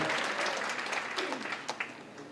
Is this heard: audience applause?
yes